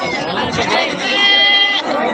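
Goats bleat at a livestock market, their calls loud and close over a babble of people talking in the background.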